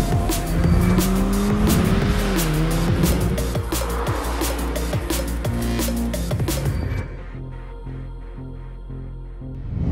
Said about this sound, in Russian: И это Golf R.